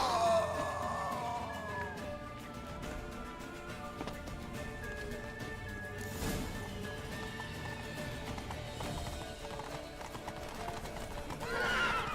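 In The Witcher 3, hooves clip-clop rhythmically as a horse runs, and the animal gives a loud neigh at the start and again near the end, with tonal game music or ambience underneath.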